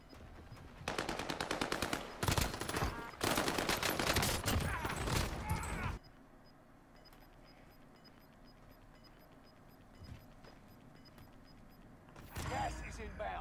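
Bursts of automatic Bruin machine gun fire in the Warzone battle royale video game, loud rapid volleys for several seconds, then a quieter stretch of game ambience before another short burst near the end.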